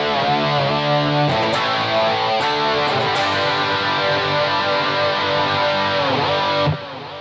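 Heavily distorted electric guitar in a hard rock style plays sustained intro chords for a live tour solo, loud and continuous with a few chord changes, ringing out alone without talk.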